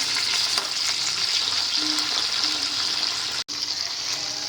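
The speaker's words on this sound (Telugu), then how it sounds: "ఇట్లా తిప్పుకుంటూ అన్ని వైపులా వేయించండి ఒకే వైపు ఉంచకుండా మధ్య మధ్యలో ఇలా తిప్పుకోండి" Eggplant pieces fry in a pan with a constant bright sizzle, interrupted by the scrape and shuffle of being turned, close and steady with one momentary dropout.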